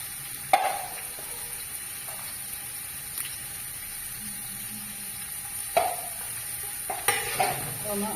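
Two chopped onions with salt sizzle softly in a pan, a steady quiet frying hiss broken by a few sharp scrapes and clinks of a spoon stirring.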